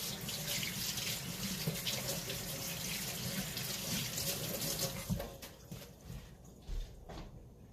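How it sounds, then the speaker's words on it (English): Kitchen tap running as hands are rinsed after shaping Salisbury steak patties, a steady close hiss of water that thins out and breaks into splashes near the end. "Let me just rinse my hands off."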